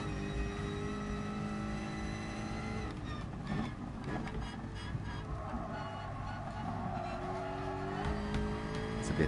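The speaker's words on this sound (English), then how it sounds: "I'm in the Jag F-Type. It's supercharged." Supercharged Jaguar F-Type engine in a racing video game, a steady loud drone with shifting pitch and brief skid-like squeals throughout.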